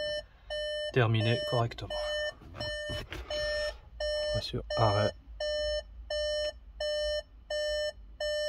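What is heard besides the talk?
Seat Tarraco automatic gearbox continuous warning beep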